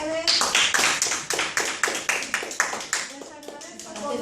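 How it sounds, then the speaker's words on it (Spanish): Applause from a group at a human rights session in Spanish, rapid claps rising and falling for about four seconds, close and full, with a bit of voice mixed in. "un aplauso para todos ustedes."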